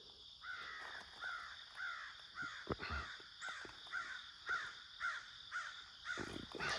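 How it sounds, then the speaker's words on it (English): Crows cawing outdoors in a suburban setting, a rapid series of about ten harsh caws in steady rhythm, fairly close and loud, with a constant high insect-like drone in the background. "we actually feed the crows."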